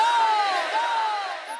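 An audience at a naat competition chants back in unison in answer to a slogan, a loud massed voice with a sustained, tonal bellow that carries across the hall.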